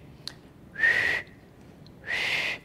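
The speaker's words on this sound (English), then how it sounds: "I'm not very good at whistling." Two breathy whistled notes, each about half a second long, with a short pause between them, close and fairly quiet, with no talking.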